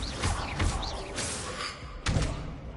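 Bombarda spell blasts in Hogwarts Legacy: several booming thuds and slams in quick succession, the loudest near the end, over a dense layer of game effects.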